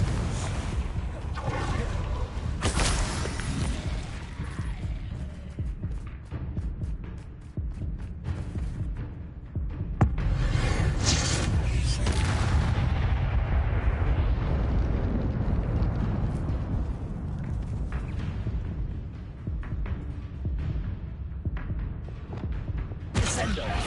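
Confringo explosive spell cast in the video game Hogwarts Legacy, producing repeated fiery blasts and bursts layered over continuous game effects and a spoken incantation throughout.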